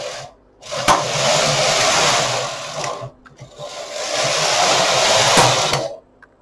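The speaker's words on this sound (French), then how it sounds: "On remet le fil beige dans l'encoche du chariot et on va faire 2 rangs." A knitting machine carriage is pushed across the needle bed for two rows with beige yarn, making two long whirring, rattling sweeps with a short pause between, close and fairly loud with no talking.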